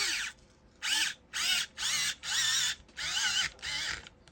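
A Tamiya hobby drill drives a small screw into a hole in six or seven short, whining bursts with brief pauses between, fairly close and alone.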